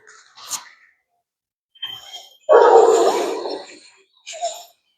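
A dog by a fence line gives a few short gruff barks and yips among other dogs, one louder rough bark standing out, close and loud between quiet gaps.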